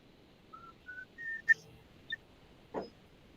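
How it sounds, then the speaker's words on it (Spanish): A person whistles into an open microphone during an online Romanesque art class: a few short, thin whistled notes rising in pitch, fairly faint and spaced apart, followed by a brief vocal sound. "Y está silbando."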